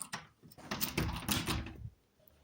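Key working the lock of a locked house door, a quick run of faint metallic clicks, rattles and handle knocks close by, ending in quiet.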